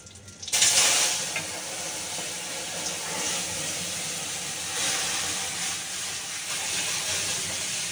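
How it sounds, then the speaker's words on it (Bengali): Dal being tempered with dried red chilli and radhuni spice, a loud burst of hissing sizzle as the hot spices hit, settling into a steady, dense, close-up sizzle that continues without talking. "ডালটা সম্বাদ দেবো, ডালে দিয়ে দিচ্ছি শুকনো লঙ্কা, দিয়ে দিচ্ছি রাঁধুনি সম্বাদ দিয়ে ডালটা করব"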